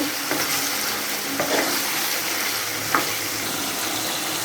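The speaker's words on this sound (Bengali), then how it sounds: "মাংসগুলোকে ভালো করে কষাচ্ছি আমি, বারবার ঘুরিয়ে ফিরিয়ে দিই।" Chicken sizzles and fries in a hot pan with steady crackling, punctuated by a few scraping stirs of a utensil against the pan.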